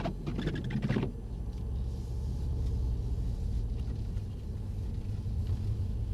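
Mercedes-AMG car engine on the track at Mercedes-Benz World Brooklands, a steady, loud low rumble throughout, with a brief burst of broadband noise at the start.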